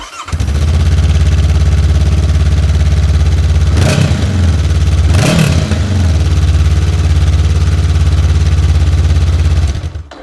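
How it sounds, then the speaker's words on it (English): A 2020 Honda CB500X motorcycle's parallel-twin engine idles through a 2-into-1 exhaust with a loud, deep rumble, briefly revving twice in quick blips before settling back to a steady growl. "The nicely designed 2-in-1 exhaust does however offer more than a growl that you'd expect from this motor."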